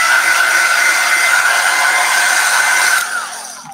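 A hair dryer blows steadily and loudly up close, drying glue on a Christmas bauble craft, a constant rushing whine that drops off and fades near the end.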